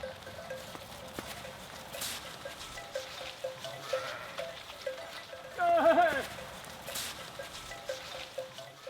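Sheep bleat faintly while grazing in open, snow-covered country, with one louder bleat standing out midway over a soft background of wind and distant animal noise.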